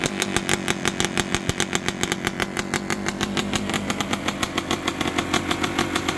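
Kawasaki KX300 two-stroke motocross engine revving close by, a loud buzzing idle punctuated by rapid sharp throttle blips in a fast, regular rhythm.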